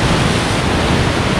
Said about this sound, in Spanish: Ahí llegan las olas.